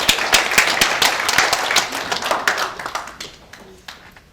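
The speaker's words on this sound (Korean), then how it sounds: "여러분 다시 한번 큰 박수 부탁드리겠습니다." Audience applause at a Busan Peaceful Unification Advisory Council gathering in Korea, a dense burst of many hands clapping that stays strong, then thins and fades toward the end.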